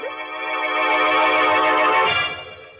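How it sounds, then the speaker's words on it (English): A telephone rings in a radio drama sound effect: one sustained, loud electric ring that swells and then fades, heard alone without voices. "And then the phone rang again. It's the phone again."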